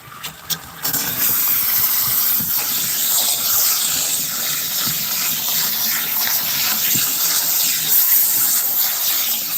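Water gushing hard with a steady broadband hiss, flushing sand and silt out of a newly filled setup on a farm; the rush stays loud and constant throughout, with a couple of brief knocks at the start and no talking.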